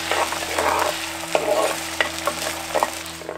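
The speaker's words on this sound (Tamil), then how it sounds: "ஐம்பது கிராம் நறுக்கின சின்ன வெங்காயம், கூடவே கொஞ்சம் உப்பு சேர்த்து வதக்க ஆரம்பிச்சிருவோம்" Small chopped onions with salt sautéing in hot coconut oil for a South Indian garlic kuzhambu, giving a steady close sizzle with repeated stirring scrapes and clicks of a spoon against the pan.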